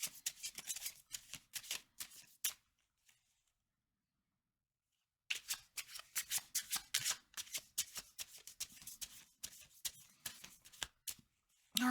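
Tarot cards are shuffled in rapid riffling bursts, close and crisp, with a pause of near silence in the middle before the shuffling resumes.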